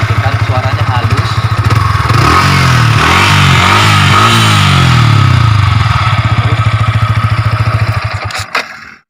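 A Yamaha R15 v3 sport motorcycle engine runs steadily and close by with a smooth, even throb, rising briefly in a couple of light revs midway before settling and cutting off at the end.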